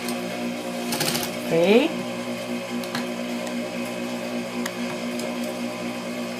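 A sewing machine runs a seam with a short backstitch at the start and end, its steady mechanical whir continuing across the clip with a brief louder burst near the beginning and a voice speaking a single word.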